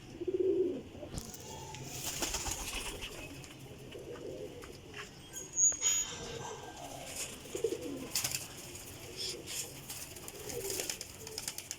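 Pigeons coo in low, rounded repeated phrases among a flock of high-flying breed birds kept in a loft, with a few faint chirps and rustles and no talking.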